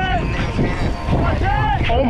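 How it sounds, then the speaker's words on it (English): Strong wind roars and buffets against the microphone during an outdoor ride along the Southern California coast near Huntington Beach, a loud, continuous rushing blast that fills the whole moment, with a voice faintly audible beneath it. "Fighting the wind."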